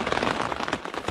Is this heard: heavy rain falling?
yes